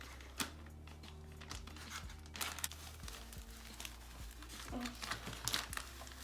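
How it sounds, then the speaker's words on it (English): Crinkling and tearing wrapping paper as a gift-wrapped weeding kit is unwrapped, with faint rustles and crackles under a low steady hum. "my sister is going to unbox this, well, I guess unwrap this kind of kit right here"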